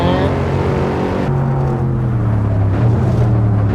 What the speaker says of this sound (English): Oh, we revved it.